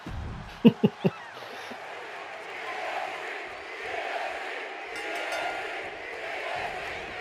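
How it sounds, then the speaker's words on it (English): Wrestling arena crowd chanting during a women's championship match, a broad, reverberant roar of many voices after a few sharp thuds, continuing steadily at moderate loudness. "The crowd already chanting for the EST."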